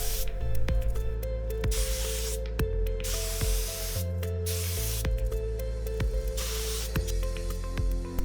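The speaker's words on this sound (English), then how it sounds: "I'm all geared up and ready to spray on my favorite Defender color," Spray gun applying Chorus Grey paint to a Land Rover Defender, a loud steady hiss running in long bursts with brief pauses and quieter gaps between passes, no voices.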